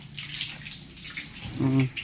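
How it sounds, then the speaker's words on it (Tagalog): Water gushes from a hose during a car wash, a steady broadband spray that swells louder near the end, with a brief low voice heard under it. "Ginuha na ni Nining yung yung hose ng tubig."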